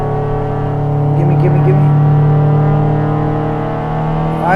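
Mazda Miata race car engine in a Spec Miata VR racing game at Harris Hill, held at steady high revs with throttle pinned, a loud continuous drone that rises slightly near the end, with a voice talking over it.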